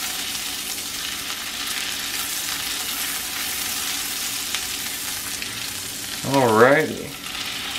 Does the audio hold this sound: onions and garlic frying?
yes